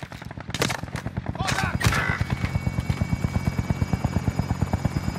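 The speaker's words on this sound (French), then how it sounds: "Hélico en approche pour la collecte d'argent." Helicopter in a video game approaching for a cash pickup, its steady rotor thump growing loud and rhythmic, with bursts of gunfire and faint voices early on.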